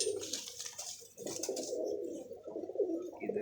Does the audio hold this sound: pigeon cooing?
yes